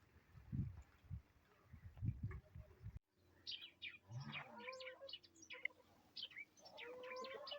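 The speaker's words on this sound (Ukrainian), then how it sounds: "Горобцям весело. Вон як радіють теплу і сонцю." Sparrows chirp in spring in a rural village, several birds giving quick overlapping tweets and calls at close to moderate distance, after a quieter opening section of low muffled knocks.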